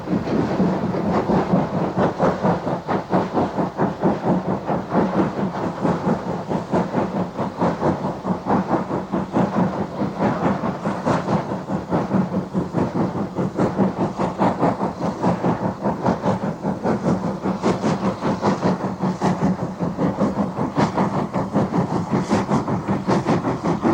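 Preserved North Eastern Railway steam locomotive No. 2392 working on the North Yorkshire Moors Railway, a loud steady chuffing rhythm with continuous hiss and rumble throughout, no voices.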